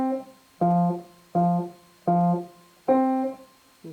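Piano notes played detached rather than legato, each struck separately with short gaps of silence between them, five clear notes in an even rhythm, close and moderately loud, from a simple pre-primary solo piece.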